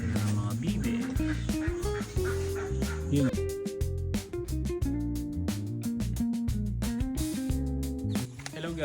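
A flock of ducks and other fowl at feeding time keeps up a busy, continuous chorus of quacks and gobbling calls up close, with a brief voice over them.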